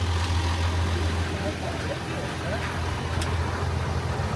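A truck's engine idles steadily at close range, a continuous low rumble running throughout.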